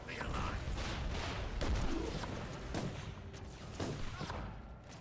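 Gunfire in the Warhammer 40,000: Inquisitor - Martyr game, a series of fairly faint, sharp shots over low combat rumble with some speech.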